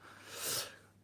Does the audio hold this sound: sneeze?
yes